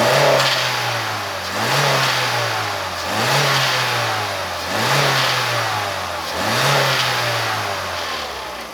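A 2012 Vauxhall Corsa engine revs repeatedly, rising and falling in about five loud, even cycles over a steady running drone, close by and with no talk.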